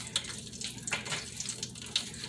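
Tap water runs over fish that came individually packed in plastic, a quiet, steady splashing trickle with a few brighter spattering bursts, close by and with no talk.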